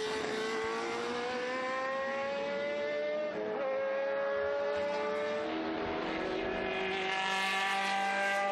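A gold Toj historic sports racing car passing on the Estoril circuit, a high-pitched engine note that holds steady, drops in pitch as it goes by, then climbs again under acceleration, heard from a distance.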